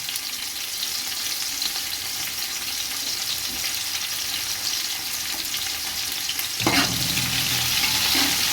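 Onions for beef biryani fry in a pan while being stirred, a constant bright sizzle with scraping spoon strokes, close and steady, and a sharper clatter of stirring near the end.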